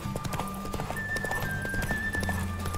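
A horse's hooves clip-clop in a rapid galloping rhythm during a race in the video game The Witcher 3: Wild Hunt, fairly quiet and steady, with faint in-game tones and a brief whinny-like sound.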